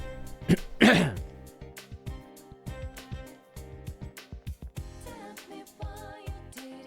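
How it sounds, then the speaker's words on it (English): A person clears their throat and coughs, with a loud raspy burst near the start followed by several shorter throat-clearing rasps and small coughs, close and alone. "I say one word and then I have to cough and clear my throat"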